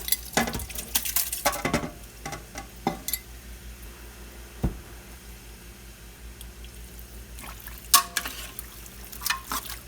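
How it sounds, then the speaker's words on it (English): Beef roast and its broth going into a soup pot for canned beef vegetable soup: clattering and scraping against the pot with splashes of liquid, in irregular bursts separated by quieter gaps. "We're going to go ahead and add my roast with its broth."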